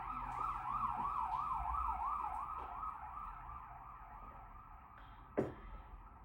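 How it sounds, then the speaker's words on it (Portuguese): A passing emergency vehicle on a street in Portugal sounds a loud, warbling siren that holds steady for several seconds, followed by a sharp knock near the end. "Deixa eu só passar esse carro."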